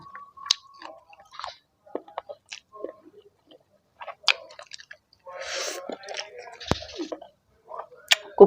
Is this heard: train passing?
no